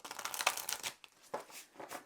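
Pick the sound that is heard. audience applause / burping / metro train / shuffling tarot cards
shuffling tarot cards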